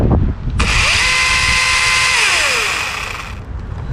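An electric chainsaw runs at full speed with a steady, loud whine, then its motor is released and the pitch slides down as the chain coasts to a stop, ending in near silence.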